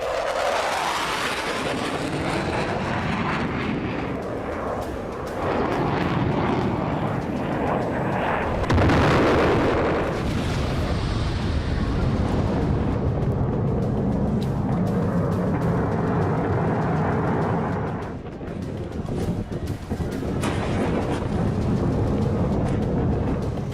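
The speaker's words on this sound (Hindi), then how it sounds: "यूक्रेन पर रूस लड़ाकू विमान से बम बरसा रहा है।" Bombs dropped by a Russian fighter jet explode across Ukraine, producing a sustained loud rumble of blasts and artillery-like thuds layered over roaring, thunderous noise, with heavier bursts recurring across the stretch and no voices.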